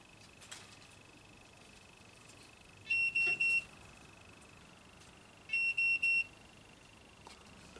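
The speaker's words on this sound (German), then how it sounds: "Kann man also dann auch einen Ton machen am Halsband, um dem Hund ein Signal zu geben" A dog tracking collar used on a driven hunt emits two short bursts of high electronic beeps, each a quick triplet of tones, clear against quiet background.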